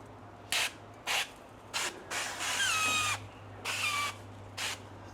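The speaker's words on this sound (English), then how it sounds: "So I'm using some avocado oil spray." Avocado oil spray hisses in short bursts onto 304 stainless steel grill grates, about six separate spritzes of varying length, with one longer sustained spray in the middle, close and clear over a low steady hum.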